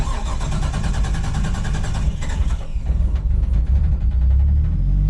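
A built Nissan Skyline R33 with an RB25DET engine cranks briefly, then fires up into a loud, rough idle close by.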